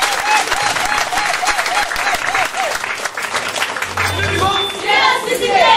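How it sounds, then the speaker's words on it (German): A crowd at a youth day church service in Wuppertal breaks into sustained applause, dense clapping close by with voices and a shout rising through it. "Ein Applaus für den Herrn"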